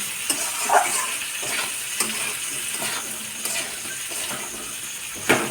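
Fish curry of aar fish frying in oil in a pan as slit green chillies go in, a steady close sizzle broken by a few sharp clinks and stirring scrapes of the spoon.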